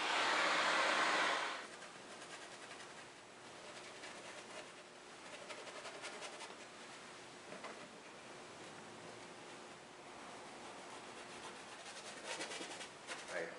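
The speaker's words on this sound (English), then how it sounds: "today I'm going to use a hairdryer just to speed things up a little bit" A hair dryer blows loud and steady for about a second and a half, then cuts off, leaving a quieter airy hiss for the rest.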